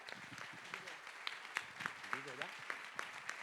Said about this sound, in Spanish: sobre todo un aplauso para los ponentes, que son en realidad los protagonistas de hoy.